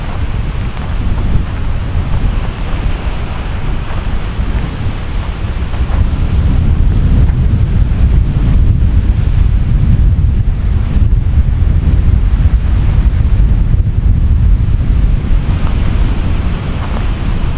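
Ocean waves and strong wind at a Florida beach near a lighthouse, a loud continuous roar of surf with heavy wind buffeting the microphone throughout.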